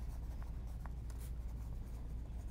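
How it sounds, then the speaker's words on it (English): A pen scratches across paper in short, close strokes, coming in soft intermittent scribbles over a low background hum. "you can write over it"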